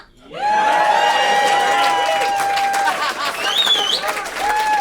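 A live audience at a Burbank, California show bursts into loud, sustained applause and cheering, with shrill whistles and whoops rising above the dense clapping.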